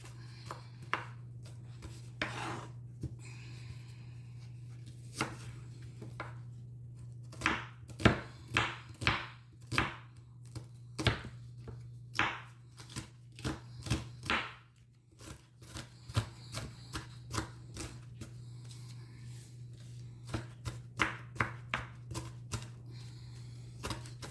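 A knife chops vegetables for lamb stew on a cutting board: quick, irregular bursts of close, crisp strikes with brief pauses, over a steady low hum.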